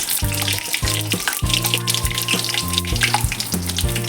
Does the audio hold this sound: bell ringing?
no